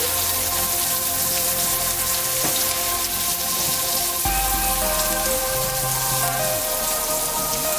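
Onion frying quickly in a pan, a constant crackling sizzle like rain on a surface, loud and close throughout with faint tonal hum underneath.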